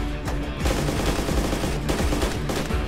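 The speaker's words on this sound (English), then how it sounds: "Shoot that motherfucker." Dense, loud automatic gunfire in DayZ Origins, a continuous rattling volley of close shots over the whole stretch.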